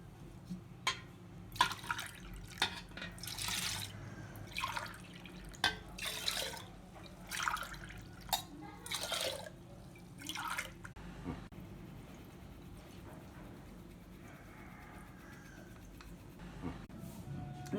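Asafoetida water poured into buttermilk, heard as splashy bursts and trickles in short irregular pours over the first ten seconds, then quieter liquid sounds, close and soft.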